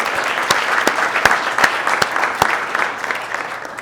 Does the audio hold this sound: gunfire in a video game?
no